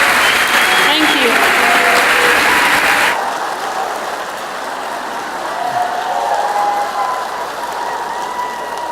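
Teachers at a school appreciation event burst into loud, dense applause mixed with cheering, which drops abruptly after a few seconds to a softer crowd murmur with some talking.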